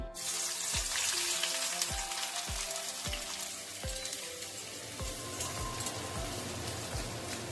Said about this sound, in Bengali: এর মধ্যে এক কুচানো পেঁয়াজগুলো দিয়ে দেবো বেরেস্তা করার জন্যে